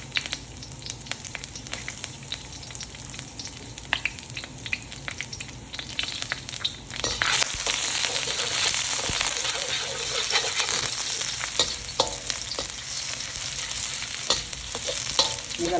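Garlic and curry leaves frying in a pan for rice noodles, a steady close sizzle with stirring clicks and scrapes that swells louder about halfway through and keeps crackling to the end.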